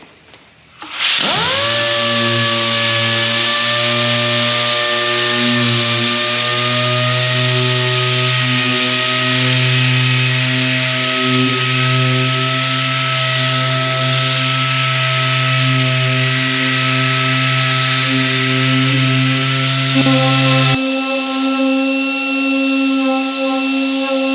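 Machine dry sanding of car paint with 3000 grit spins up and then runs as a loud, steady, high whirring hum for over twenty seconds, with a slight pitch change near the end.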